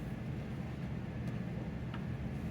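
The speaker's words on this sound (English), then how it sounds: "I apologize for the noise in the background, but that is my furnace." A basement furnace runs with a steady, dense low rumble and broadband hiss, continuous and unchanging throughout, with a faint tick near the end.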